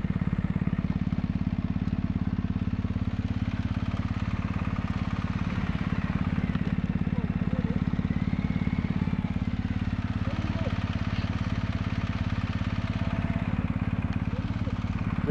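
A motorcycle engine idles while stopped, a steady, close low rumble that holds throughout, with voices talking faintly over it.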